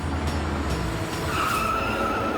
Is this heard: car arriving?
yes